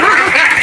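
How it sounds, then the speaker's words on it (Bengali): Ducks quacking close and loud in a brief dense burst, several birds calling over one another. "অনেক হাঁস রে, কত সুন্দর।"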